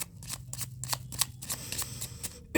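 Tarot cards shuffled by hand in quick, crisp riffles and flicks, a rapid run of close, papery snaps with a sharper slap at the end, no talking.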